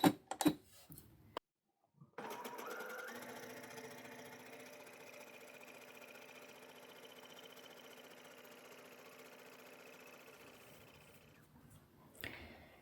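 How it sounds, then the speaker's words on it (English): A sewing machine running a 3-step zigzag stitch on stretchy swimwear fabric, a steady mechanical whir lasting about ten seconds after a few short handling clicks, close and moderately quiet, ending with a small clunk. "If you don't have that stitch, you could try a 3-step zigzag."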